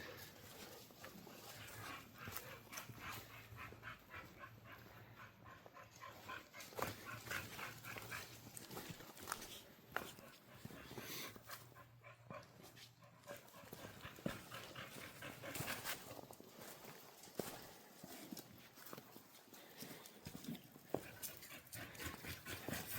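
Dogs on a March backpacking trail, with panting, small whimpers and an occasional yip close by over outdoor wind and footstep noise, lasting throughout.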